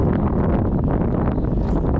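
Strong wind buffets the microphone at a wide seashore, a loud continuous rumbling roar with gusty flutter throughout and no clear voices.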